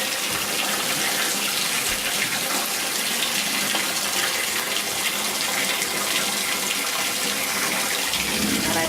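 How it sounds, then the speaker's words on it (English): Dirty water from a betta fish tank pours out in a continuous loud splashing gush, steady and unbroken for the whole stretch, with no voices. "Then I dump out the dirty water."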